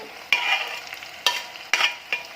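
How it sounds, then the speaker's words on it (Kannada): Chicken with ghee, turmeric and salt is stirred in a hot pan: four sharp scraping stirs break up a sizzling background, close by. "ಚಿಕನನ್ನು ಆ್ಯಡ್ ಮಾಡ್ಕೊಳ್ಳೋಣ."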